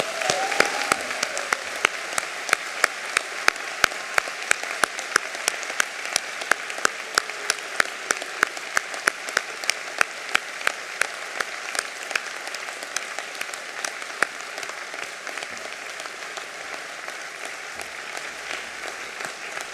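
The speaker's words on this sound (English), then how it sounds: "Let's give the graduates a warm round of applause." At a university arts and social sciences graduation ceremony, the audience applauds the graduates with sustained clapping that settles into a steady, rhythmic beat for around twenty seconds, gradually softening toward the end.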